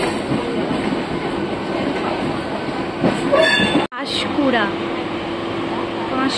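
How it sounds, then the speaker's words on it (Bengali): A train bound for Panskura rushes past nearby, loud rumbling and rattling wagons with some wheel squeal and a short horn-like tone, briefly cut before the rumble resumes. "পাঁশকুড়া চলে যাচ্ছে।"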